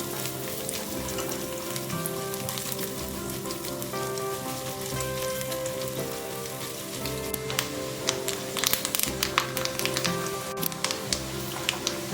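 Chunks of coconut fry in hot oil in a pan, crackling with a dense, steady sizzle and scattered sharp pops that grow more frequent toward the end.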